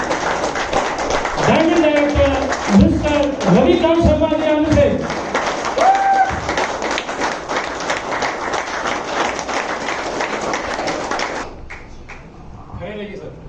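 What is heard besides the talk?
standing ovation with loud applause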